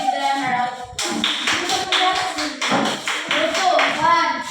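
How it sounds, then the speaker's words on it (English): A classroom round of applause during a teaching demonstration, a handful of close, distinct hand claps in an uneven rhythm mixed with voices talking and calling out over them. "Let's give them a round of applause."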